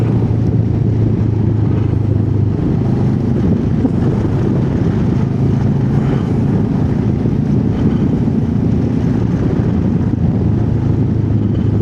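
A Benelli TRK 702 motorcycle rides along, its steady engine drone heavily buried under constant loud wind buffeting on the microphone, with no talk.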